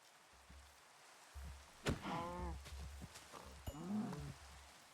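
Cows in Minecraft give two drawn-out, wavering moos a couple of seconds apart over soft background hiss and dull low thumps, moderately close and clear.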